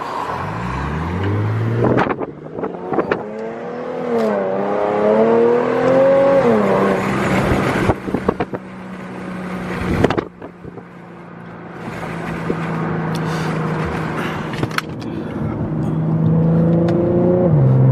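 Infiniti G37 exhaust droning steadily from inside the moving car, rising and falling as it revs and shifts, loud and continuous with some wind buffeting and a few sharp knocks.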